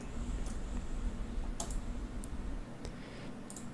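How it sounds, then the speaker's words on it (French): A computer mouse clicks a few times at a desk, sharp isolated taps spaced irregularly over a low background hum. "Et on va cliquer"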